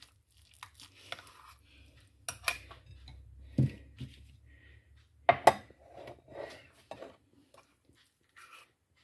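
Cooked porridge, seasoned with butter, spices and salt, is scooped into a dish at close range, giving sporadic soft scrapes and a few sharper utensil clinks against the dish with quiet pauses between them.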